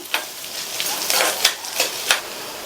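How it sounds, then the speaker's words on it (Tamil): Onion, garlic and tamarind sauté in a pan for brinjal chutney, a steady close sizzle broken by several sharp stirring scrapes spaced across the short stretch, with no voices. "நம்ம சேர்த்துருக்கிற இந்த வெங்காயம், பூண்டு, புளி 3மே ஓரளவு நல்லா வதங்கி வரட்டும்."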